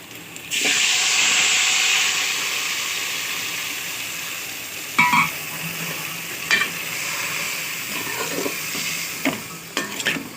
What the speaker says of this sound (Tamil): இப்போ நம்ம இந்த சேனக்கிழங்கு எடுத்து இதில் போட்டுடலாம்